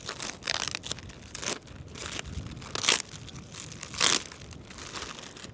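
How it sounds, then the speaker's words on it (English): A heavy duty UltraShade umbrella canopy is pulled out of its plastic packaging, making close, loud crinkling and rustling with several sharper crackling bursts as the plastic is handled and torn away. "Take your canopy out of the plastic."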